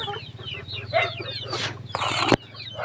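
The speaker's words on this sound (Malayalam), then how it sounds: "ആ അപ്പം എൻ്റെ കോഴി കൃഷിയാട്ടോ ഇത്" Chickens on a small backyard poultry farm cluck in a run of short, close, repeated calls, with a brief burst of rustling or wing flapping partway through, and no talking.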